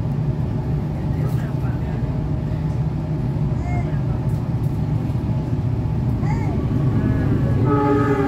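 The Argo Wilis train rolls past a level crossing near Indihiyang station with a steady, loud rumble of wheels and carriages, while horn blasts and faint whistles rise over the din toward the end.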